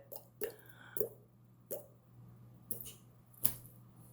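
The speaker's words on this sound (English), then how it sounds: "Kind of sound like water drops to me" Five or six separate wet plinks spaced about half a second apart, quiet and close, over a low steady hum, like water drops falling one by one.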